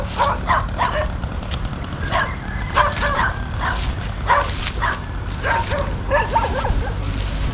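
Several dogs barking and yipping in short repeated bursts, with some whimpering, at a fishing spot under a bridge, over a steady low rumble of outdoor background noise.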